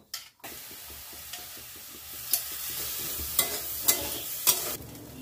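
Rice fried in a pan before making lentil khichuri: a soft sizzle with repeated spatula scrapes, a few sharper clatters standing out, close and without voices.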